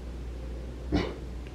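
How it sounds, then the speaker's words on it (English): A single short dog bark in a quiet indoor room, one brief loud yelp standing out over a low steady background hum. "Stop barking."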